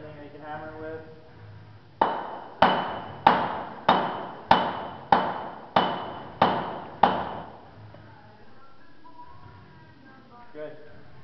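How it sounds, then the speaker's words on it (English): Rubber hammer striking a mud saver valve to seat it into a drill pipe: nine evenly spaced, sharp ringing knocks in a steady rhythm, close and loud, with talk before and after. "Grab a rubber hammer or anything that you can hammer with."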